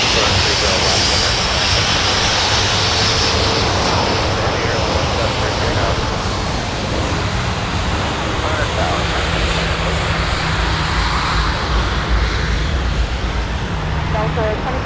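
An airliner at Minneapolis–St. Paul airport, likely a 737 landing on runway 30 left, gives a steady broad engine roar that holds loud for the whole stretch, with voices audible alongside.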